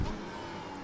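A Mercedes W12 Formula 1 engine screams at high revs on a Nordschleife hotlap, one brief steady loud tone close by, with no voices.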